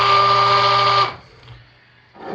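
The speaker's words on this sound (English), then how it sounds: "Hit it with the stick blender to finish mixing it and help start the setting up process." A stick blender mixing soap batter, a steady close mechanical whir that cuts off after about a second, leaving a quiet room before another soft motor start.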